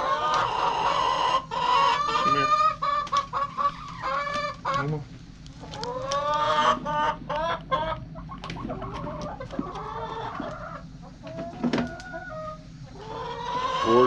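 Hens cluck and squawk continuously in a coop while eggs are being collected, with close, busy, overlapping calls throughout.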